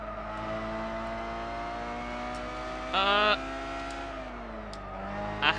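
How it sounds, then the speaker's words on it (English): Mazda Roadster touring car with pop-up headlights in the racing game Gran Turismo 6, its engine holding a steady drone with a brief loud burst near the middle and another rise at the end. "We are in a Mazda Roadster touring car as well"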